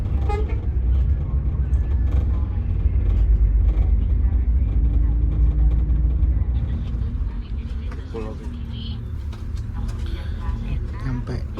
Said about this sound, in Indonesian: Ini suasana kota Bekasi pagi itu. Banyak keberangkatan bis menuju ke arah timur